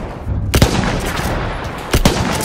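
Enemy machine gun fire in a World War I shooter game. Two sharp bursts crack close and loud, separated by about a second and a half, over a steady rumble of battle noise.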